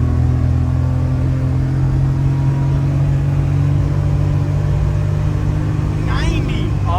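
Inside a hopping car, the engine drones loudly and steadily toward the rev limiter, a constant heavy hum with a rising whine near the end while people talk over it.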